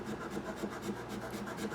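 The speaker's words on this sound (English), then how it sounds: "I need to remove this extra super glue from here where we glued that fret in last night, and it's easy. Just take a scraper" Scraper drawn across a Yamaha F310 guitar fingerboard to remove excess super glue near a fret, a steady close rasping scrape in short repeated strokes, with no talking.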